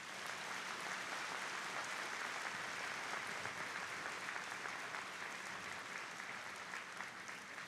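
Dense, steady audience applause fills a National Day celebration in Taiwan, a loud, unbroken wash of many hands clapping that holds evenly for several seconds with no voices standing out.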